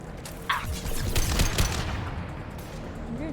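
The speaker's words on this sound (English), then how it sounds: "I'm getting shot from the side." Gunfire aimed at the player in the video game Mass Effect 2, a dense burst of rapid shots and impacts that swells and fades over a few seconds amid game noise, with a faint voice briefly behind.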